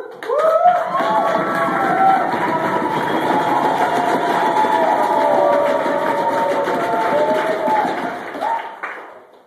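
A crowd at an environmental activists' meeting with the Montana governor cheers loudly and continuously for several seconds, a dense roar of voices and whoops that fades out at the end.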